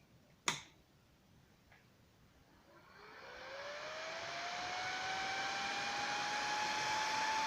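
A sharp click, then a Harley CoolFlow cooling fan on a 2011 Harley-Davidson FLHTCUSE6 motorcycle spins up with a rising whine into a steady, loud rush of blowing air that holds to the end.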